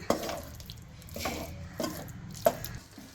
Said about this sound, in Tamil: போட்டு ஒரு 2 நிமிஷம் நல்லா வதக்கி விட்டுக்கோங்க.